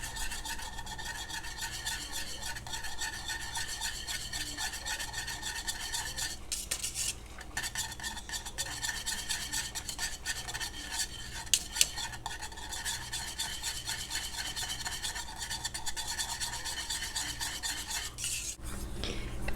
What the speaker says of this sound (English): stir in this cornmeal